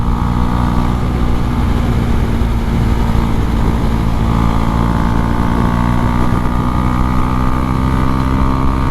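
Husqvarna Svartpilen 401 motorcycle pulling hard through the upper gears on the road, a loud steady engine drone with strong wind roar close to the rider, sustained without a break.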